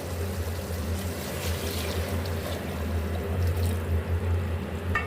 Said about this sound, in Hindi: हमने इसमें पानी डाल दिया।